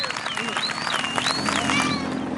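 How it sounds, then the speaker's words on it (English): Spectators cheering and clapping along the roadside during Stage 3 of the 2023 Tour of the Basque Country cycling race, a steady crowd roar with whistles rising through, a commentator talking over it. "listen to the crowd response"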